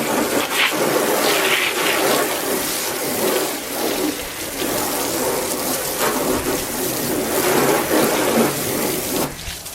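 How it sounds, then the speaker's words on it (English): Hose water rinses iron remover off a car's paintwork, a steady close broadband spray and splash that carries on for the whole stretch with slight swells in force. "this is going to be the step that you normally do, is just rinsing that iron remover off"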